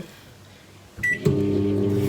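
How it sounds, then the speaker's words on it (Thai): A microwave oven starts up in a home kitchen after a short click and tone, settling into a steady, close electrical hum with a droning buzz that continues to the end, following a quiet room. "เสียงไมโครเวฟดังล็กน้อยด้วยพี่น้อง"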